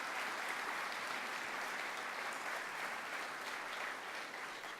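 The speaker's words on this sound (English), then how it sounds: "Let's give them a round of applause." A large audience at a formal event gives steady, dense applause that holds at an even volume throughout, with no voices over it.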